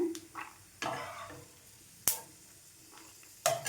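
Leftover roti pieces and peanuts lightly dry-roasting in a pan, with a faint steady crackle broken by a few sharp scraping stirs and clinks, close up and without talk.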